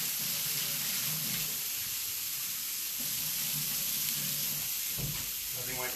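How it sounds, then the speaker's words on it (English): Hot frying pan being cleaned after cooking bacon and eggs, giving off a steady, loud hiss of sizzling and steam with soft scraping and stirring throughout. "a chance to clean that pan up real quick"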